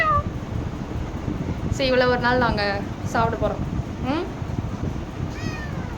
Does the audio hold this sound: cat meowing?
yes